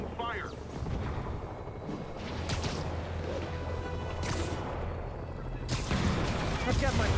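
Gunfire striking an armored personnel carrier in a video game, heavy cracking impacts and blasts repeating amid a constant chaotic rumble, with a voice talking over parts of it.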